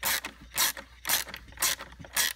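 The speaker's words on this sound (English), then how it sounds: "with the 7/16 wrench and a 3/16 Allen, you will start tightening it" Wrench tightening a MOAB truck bed lock with a 7/16 wrench and 3/16 Allen key, five quiet evenly spaced metallic clicking strokes close by.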